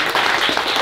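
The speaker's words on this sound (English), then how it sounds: "Let's give Kyle a big round of applause for the match." An audience at a jiu-jitsu match breaks into a short, loud burst of applause, a dense wash of clapping lasting under a second.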